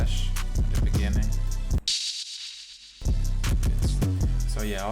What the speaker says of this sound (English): and then I have a crash at the beginning.